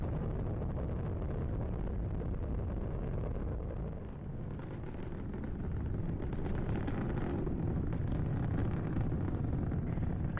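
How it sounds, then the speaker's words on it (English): Space Shuttle Discovery's engines roar during the STS-120 launch, a continuous heavy low rumble with wind buffeting, loud and unbroken, dipping slightly midway before swelling again. "Discovery's engines are throttling down as the orbiter passes through the area of maximum pressure on the vehicle"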